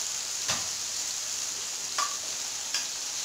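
Tomatoes with turmeric fry in a pan for brinjal saru, giving a steady close sizzling hiss broken by three brief scraping stirs.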